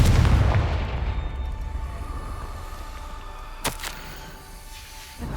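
In Hogwarts Legacy, the Confringo fire spell sets off a deep rumbling boom that fades slowly, followed by a faint crackle and a brief sharp pop.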